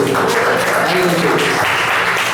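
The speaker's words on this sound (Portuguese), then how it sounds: "Vamos aplaudir a palavra do Senhor, querido." A church congregation applauding during a sermon service, loud, close, dense clapping from many hands with voices rising beneath it throughout.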